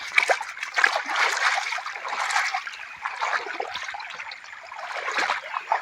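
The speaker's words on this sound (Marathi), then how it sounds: "पर्याला पाणी कमी आहे" A shallow monsoon stream splashes and trickles steadily, a continuous bright babbling with small surges and no voices.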